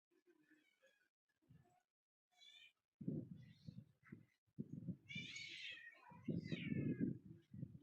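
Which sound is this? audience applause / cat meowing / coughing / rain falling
cat meowing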